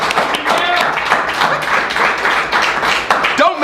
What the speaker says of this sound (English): they really should burst into spontaneous applause right now